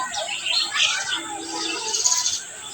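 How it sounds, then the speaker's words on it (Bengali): Several birds chirp and twitter in quick, overlapping calls against a steady background of outdoor hiss. "চারিদিকে তো কিচিমিচি পাখিদের ডাক"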